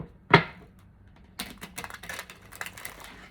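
A tarot card deck being shuffled by hand, a sharp snap of cards followed by a rapid flurry of riffling clicks, close and fairly loud.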